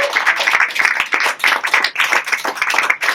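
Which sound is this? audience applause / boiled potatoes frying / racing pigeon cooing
audience applause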